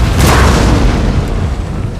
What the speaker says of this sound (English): fixing to unload some canister shot right in their face